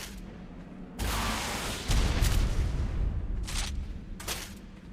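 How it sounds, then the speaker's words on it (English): A rocket blowing up turrets in ARK: Survival Evolved on The Island, heard as a sudden loud blast followed by a heavy rumbling explosion and sustained crackling debris, with a few brighter bursts trailing off. "just blowing the turrets with a rocket without getting killed myself"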